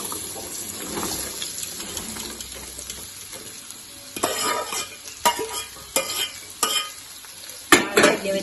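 Mango pickle being stirred in a frying pan with mustard seeds and asafoetida, a steady sizzle under repeated scraping and thumping strokes of a spoon, growing louder and more rhythmic toward the end.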